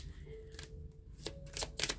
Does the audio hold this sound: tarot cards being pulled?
yes